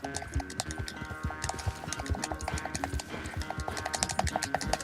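Horse hooves gallop in a rapid, steady clip-clop rhythm in the video game Red Dead Redemption 2, close and continuous with no talking.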